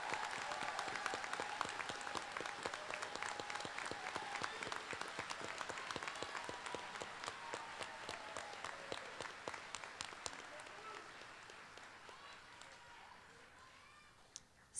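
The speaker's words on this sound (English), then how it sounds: "Everyone, please join me one last time in applauding our graduates." Sustained applause from an audience at a college commencement ceremony, dense clapping that holds steady and gradually thins toward the end.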